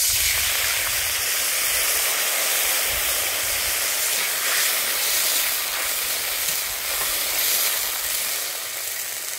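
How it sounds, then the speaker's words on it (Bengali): Dry mango powder water poured into a hot pan over tomatoes for a Bengali rohu fish sour curry, giving a steady, loud, continuous sizzle and hiss that holds for the whole stretch with no talking. "এর মধ্যে আমি এবার দিয়ে দিচ্ছি আমচুরের জলটা।"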